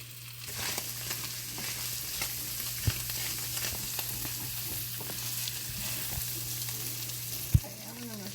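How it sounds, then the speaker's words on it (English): Sausage sizzles and browns in a pan, rendering out its grease, a steady crackling fry that continues throughout, with a few sharp clinks of a utensil against the pan and no speech. "so see how I've got my greases cooking out of my sausage?"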